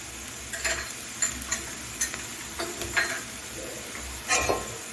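Poppy seed paste (posto bata) cooking dry in a pan over medium heat, with a steady low sizzle and light, irregular scraping taps as a spoon stirs it close by.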